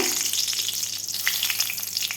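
Bay leaf and dried red chilli sizzling in hot mustard oil in a kadai, a brief steady crackling fry heard up close with no talk.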